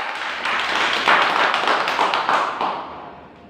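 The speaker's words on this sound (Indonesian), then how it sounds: "Tepuk tangan buat dia" Church congregation clapping for someone during a sermon, a dense burst of applause that swells and then fades toward the end, heard alone without talk.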